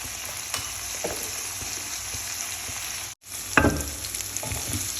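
Paneer cubes frying in oil in a pan, a continuous close sizzle with a brief pause and then a louder burst of crackling and stirring clatter as frying resumes.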